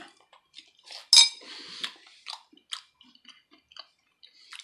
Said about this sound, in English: Excuse me, chewing.